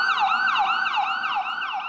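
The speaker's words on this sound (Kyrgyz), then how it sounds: "жым-жыртыкты көбүрөөк тез жардам унааларынын добушу гана бузуп жаткандай" An ambulance siren wails through empty New York streets, its rising and falling tone repeating in quick, regular sweeps, loud and close with no other sounds.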